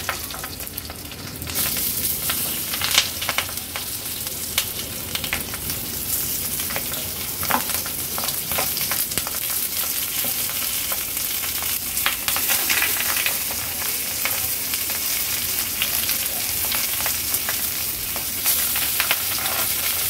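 Prawns wrapped in banana leaf fry in oil in a pan over a medium flame, giving a loud, steady sizzle with scattered crackles and pops that continue without a break.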